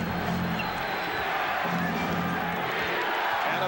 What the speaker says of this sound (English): the Forum crowd, they have been into it in terms of decibel level during the playoffs